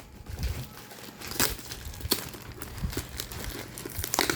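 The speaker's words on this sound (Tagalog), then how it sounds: "Lisuda kay gud di abrihan ay gisiun na lang gyud" Gift wrapping torn open by hand, wedding presents being unwrapped, with repeated crinkling and ripping bursts close up, brief snatches of talk in the background.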